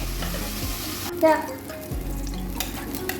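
Salted ingredients for a gravy sauté in a pan, with a steady soft sizzle, occasional stirring scrapes and a brief clink of a utensil against the pan.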